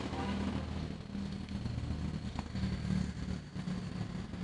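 A loud motorcycle with an illegally loud muffler rumbles steadily nearby at night, its low growl filling the whole stretch with no voices.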